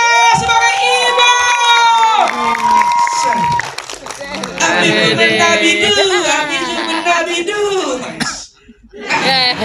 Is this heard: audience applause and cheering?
yes